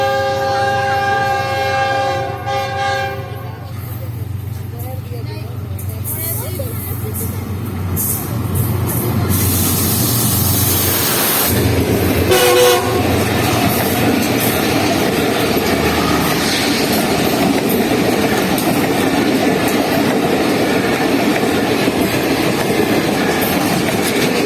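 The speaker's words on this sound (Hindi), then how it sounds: "तो हमारी ट्रेन से पहले यहाँ से अभी कुछ ही देर में गुजरने वाली है लाहौर कराची के दरमियान चलने वाली 38 डाउन बाबा फरीद एक्सप्रेस।" The 38 Down Baba Farid Express passenger train between Lahore and Karachi sounds a loud, sustained multi-tone horn as it approaches, then roars past close by with a heavy rumble and rhythmic wheel clatter that continues to the end.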